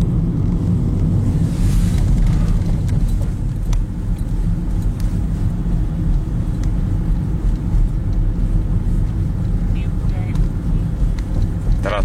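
An agricultural tractor drives across a Swiss field, its engine a continuous low drone heard from a distance and blended with wind buffeting the microphone, while people talk nearby.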